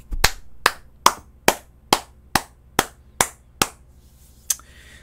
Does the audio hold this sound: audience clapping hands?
yes